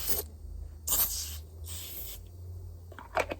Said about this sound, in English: spray it down with this glass cleaner